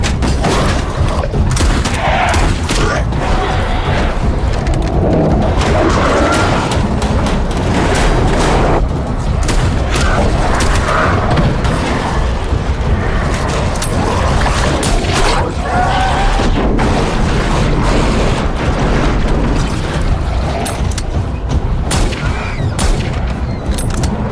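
Loud, continuous bursts of gunfire and booming blasts crack and crash densely over about twenty-four seconds, close and chaotic, with voices shouting faintly underneath.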